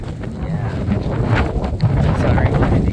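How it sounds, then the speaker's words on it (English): Strong wind buffets the microphone outdoors during a snowy dog walk, a loud, steady low roar that swells and rushes throughout with no clear speech over it. "Sorry, heading into the wind."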